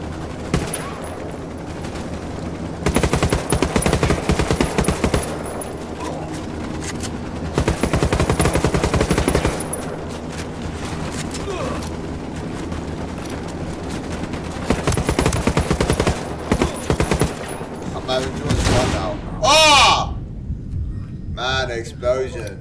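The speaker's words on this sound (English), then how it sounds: "Explosion." Sustained automatic gunfire and bursts of fusillade in Ghost Recon Wildlands, loud and dense throughout, with a big explosion near the end; someone talks intermittently over the combat.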